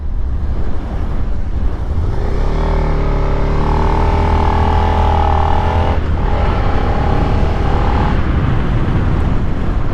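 Suzuki SV650 sport bike accelerating hard, the engine note climbing through the revs in rising sweeps after a steady opening, with a brief dip for a gear change, loud and close with wind noise throughout.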